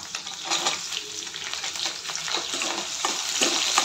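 Sliced onions and garlic paste frying in hot oil in a pan for an okra curry, a steady crackling sizzle with bursts of stirring, close and continuous, no voices.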